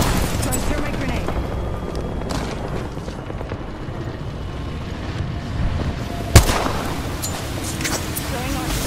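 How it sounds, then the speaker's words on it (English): Airstrike and grenade blasts in Apex Legends rumble in a steady barrage of booms and gunfire, with one sharp, loud close detonation standing out about two-thirds of the way through, while a player speaks. "Airstrike. Throw my grenade out."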